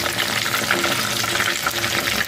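Kofta meatballs fry in hot oil for a Pakistani-style kofta curry, giving a loud, steady, close-up crackling sizzle that runs without a break and with no voices.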